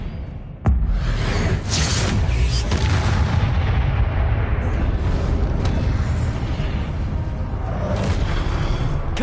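A spell cast in the Hogwarts Legacy video game: a sharp crack, then dense, loud booming blasts and rumbling that carry on steadily without a break.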